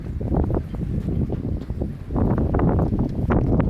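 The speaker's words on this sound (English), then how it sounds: "the wind is really blowing here" Strong wind at the shore buffets the microphone with loud, continuous low rumbling and gusty bursts, as if standing exposed outdoors.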